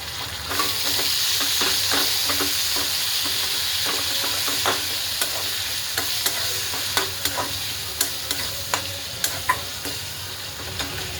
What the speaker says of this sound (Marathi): छान असं तेलामध्ये फ्राय करते कांदे आणि टोमॅटोला